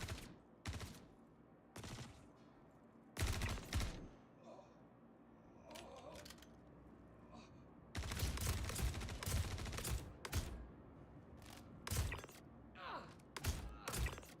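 Video game gunfire in Star Citizen, repeated sharp bursts of shots in irregular clusters, loud and close, separated by short quiet gaps and ending in a heavier volley near the end.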